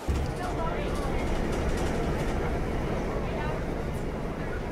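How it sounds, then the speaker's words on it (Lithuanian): A train rolls along rails in a steady, broad rumble that holds at a fairly even level and eases slightly toward the end, with no clear voices over it. "Traukinys tolsta"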